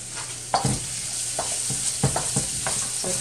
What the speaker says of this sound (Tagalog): Saute the onion and garlic.